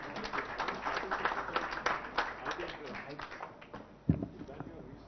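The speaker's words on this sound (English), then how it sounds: "Can we have a round of applause, please?" Dense audience applause fills a hall at a German investor summit in Hyderabad, steady and fairly close, with a voice mixed in and a single sharp thump near the end.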